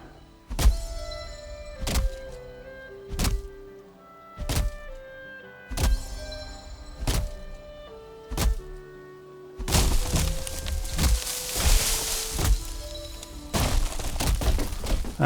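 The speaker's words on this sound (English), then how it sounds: "Now we can create the axe. And it's time to cut down a real tree." In the Valheim video game, an axe chops down a tree with a steady series of loud, sharp wooden thunks roughly every one to one and a half seconds, followed by a crackling, breaking rush as the trunk gives way.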